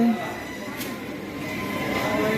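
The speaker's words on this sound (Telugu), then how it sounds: "ఐదు నిమిషాలు అఫీషియల్ స్టాప్ తర్వాత మన ట్రైన్ అయితే తీసాడు" A Guntur–Rayagada passenger express pulls out of Vizianagaram junction with a steady, close rumble of rolling wheels and carriage noise that gradually grows louder.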